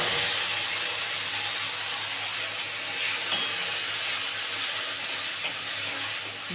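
Ground spice paste for paneer manchurian frying in a pan, giving a steady, close sizzle and hiss throughout with a couple of faint clicks of stirring, no talking.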